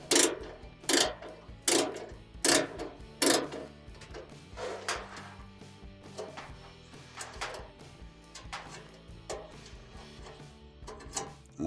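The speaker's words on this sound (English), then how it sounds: "take our 1/4 inch driver and remove a single 1/4 inch screw from the bracket of the radiant sensor" A 1/4 inch nut driver backs a single screw out of the radiant flame sensor bracket on an Amana dryer: a run of close, sharp clicks and ratcheting ticks with small scraping metal sounds, fading to lighter taps.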